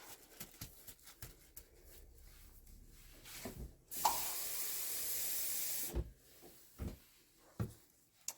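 Water runs from a tap in a steady hiss for about two seconds, set between scattered knocks and clunks of containers and cupboards nearby during pour dyeing.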